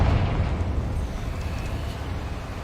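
A Confringo fire spell detonates in the Hogwarts Legacy video game, a single low, booming blast at the start that trails off into a fading rumble, moderately faint and with no talk.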